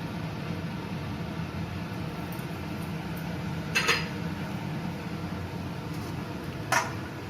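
A utensil lifts fried egg batter out of a hot metal wok, giving two short metallic clinks several seconds apart over a steady, close hiss of frying oil.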